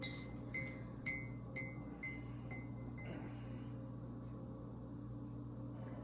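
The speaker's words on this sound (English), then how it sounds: "And just stir it around." A spoon stirs coffee with cold creamer in a mug, giving about six bright, quick clinks at an even rhythm before it goes quiet over a steady low hum.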